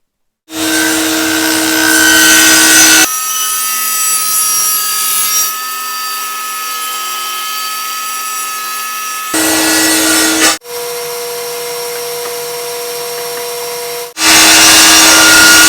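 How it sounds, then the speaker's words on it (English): A table saw fitted with a spiral jig cuts into a piece of firewood, a loud steady whine and roar that runs in long passes, dropping between cuts, with brief lulls and no talk. "after running the piece through the blade a few times"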